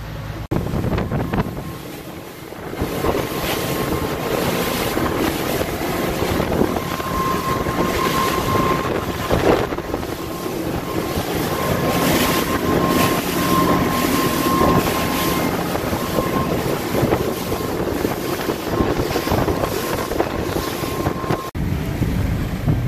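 A Grady White boat motors out across open water, its engine a steady loud drone mixed with heavy wind buffeting and water rush throughout, with no talk.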